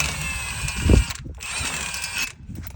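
A socket wrench ratchets on a wheel nut in two short, close bursts of clicking with a brief gap and a low thump between them.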